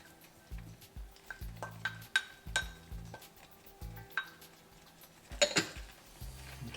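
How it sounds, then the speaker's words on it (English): A spoon scrapes and stirs tomato and capsicum in a pan in short repeated strokes for chicken tikka masala, with light clinks against the metal and a faint sizzle underneath. "Get that all stirred in."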